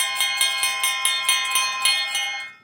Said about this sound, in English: So I've seen these called elephant bells. I have also seen them just called claw bells.